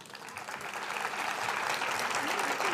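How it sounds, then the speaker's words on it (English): An audience applauds as a speaker, Dr. Jayaprakash Narayan, is introduced at the Bharatheeyatha 2025 event; steady dense clapping builds slightly and holds at moderate loudness, with a faint voice underneath. "A round of applause."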